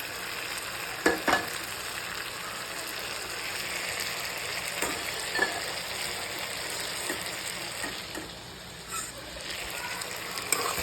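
Bitter gourd sautéing with tomato and onion in a pan for paavakkai kulambu, a continuous moderate sizzle with occasional spoon knocks and stirring, near and without speech.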